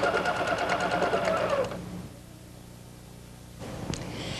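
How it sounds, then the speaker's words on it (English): A Husqvarna Viking #1 sewing machine with a wing needle hums in a fast steady stitching run, stops abruptly, then restarts near the end, close and clear with no voices. "Now I'm going to be sewing around a teardrop on my Viking #1 Husqvarna with a wing needle and an entredot stitch"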